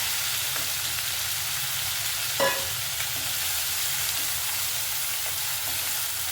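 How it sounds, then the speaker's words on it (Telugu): Cucumber fries in a little oil with a steady close sizzle and a faint clink of stirring, and no one speaking. "కొంచెం ఆయిల్ వేసి దోసకాయ వేయించాలండి"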